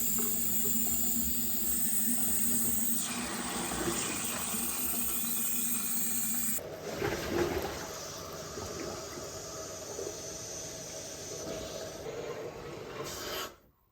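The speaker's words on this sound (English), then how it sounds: "We have a lot of air in the lines that I need to get out" Water lines just refilled after draining on an off-grid homestead build gurgle and sputter as trapped air pushes out, a rushing flow that cuts abruptly partway through and then resumes more unevenly with irregular burps before stopping.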